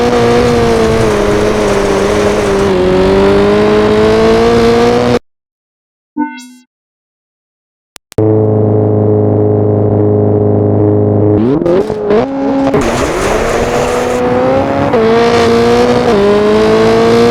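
Rally car engine from the Richard Burns Rally game, loud and close, revving hard with steady high throttle drone, cutting out briefly for about three seconds, then returning with rising gear-change sweeps as the car accelerates again.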